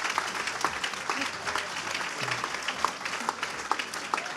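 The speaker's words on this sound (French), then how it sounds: "On peut déjà applaudir les naïcs parce que c'est assez incroyable." Applause rises from the crowd at a town's New Year ceremony honoring a weightlifter, a fairly soft, scattered clapping with a few sharper individual claps, while murmured voices carry faintly underneath.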